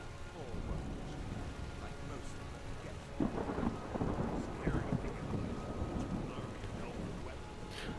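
Thunder rumbles through a storm in the video game Skyrim, a broad low roll with heavy rain hissing steadily throughout and a louder crack-like swell midway.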